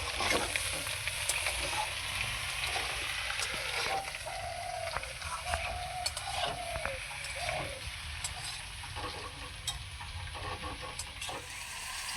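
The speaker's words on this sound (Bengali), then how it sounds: "কেটে রাখা বেগুনগুলোকে দিয়ে দিলাম বেগুনগুলোকে সিম আলুর সঙ্গে মিশিয়ে নেব" Potatoes, flat beans and brinjal fry together in a pan, giving a steady, close hiss of sizzling oil with light stirring scrapes throughout and no talk.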